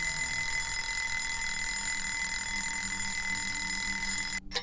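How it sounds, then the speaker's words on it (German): An alarm clock in the horror video game Obscuritas rings as a loud, continuous, steady electronic bell that fills the room and cuts off abruptly at the end. "dass der Wecker losging, als wir in den Raum hier gegangen sind"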